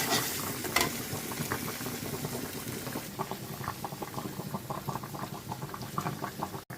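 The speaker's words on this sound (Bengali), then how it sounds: "লাউডা আলাদা আলাদা লবণের সাথে সিদ্ধ করলাম" Bottle gourd simmering in salted water in a home kitchen pot, a steady close bubbling boil with soft irregular pops and light clatter continuing throughout, no voices.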